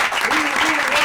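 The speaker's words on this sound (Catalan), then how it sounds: "Fort aplaudiment." A short burst of loud, dense applause fills the room, a close, continuous roar of clapping.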